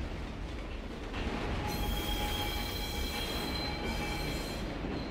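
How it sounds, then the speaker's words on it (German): A fast train in the video game Condemned: Criminal Origins rushes past with a dense roar and high, sustained wheel squeal that rises partway through and holds steady, loud and close, with no talk. "Der Zug wird aber sehr,"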